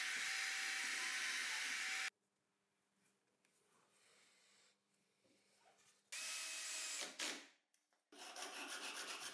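Drilling holes for mounting washers in a homemade sliding crosscut table for a table saw, a loud broadband power-tool whine that runs in several bursts separated by quiet gaps.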